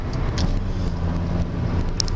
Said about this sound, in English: Sorry about a lot of the road noise.